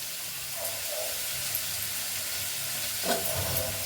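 Curry leaves tossed into hot oil for tempering crackle and sizzle steadily at close range, with a brief stir and a louder splutter near the end, and no one talks.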